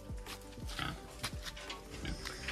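Pigs in a pen on a village farm grunt and squeal repeatedly in short bursts, close by and moderately loud, with no talk.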